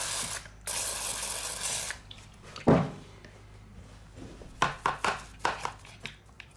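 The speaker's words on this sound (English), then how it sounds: "So I'm going to clean all that grease out of here. Just brake cleaner." Aerosol brake cleaner spraying in hissing bursts to clean grease from a tapping head, the spray bursts mixed with clunks and clicks of the part being handled.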